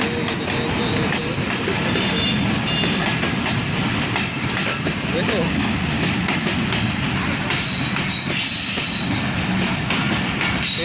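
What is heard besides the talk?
train passing on rails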